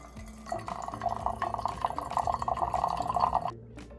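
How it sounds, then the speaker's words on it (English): Hot water from an Ecoviva MATE4 countertop RO filter trickles through ground coffee, a close, soft patter of drips and thin pouring that runs for a few seconds before stopping abruptly. "the hot water here is just gonna go through the ground coffee"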